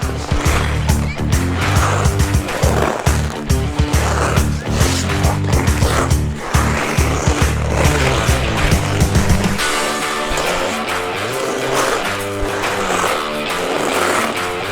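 Ice skates on sharpened T-blade runners carve across the ice with loud, rhythmic scraping strokes, then settle into a smoother, continuous glide near the end.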